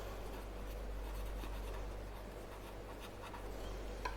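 A pen scratches steadily across paper for several seconds, soft and close, over a constant low electrical hum, with no talking.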